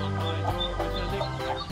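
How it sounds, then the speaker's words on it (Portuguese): Chickens on a small country farm, with a chick among them, peep and cluck continuously in short, repeated calls, close and moderately loud. "Olha o pintinho."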